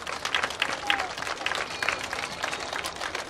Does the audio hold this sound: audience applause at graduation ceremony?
yes